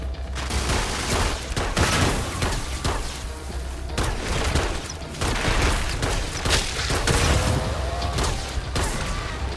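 Dense, continuous gunfire from the video game Starfield, with sustained bursts of shots and booms running throughout against tough enemies, loud and close with no talk.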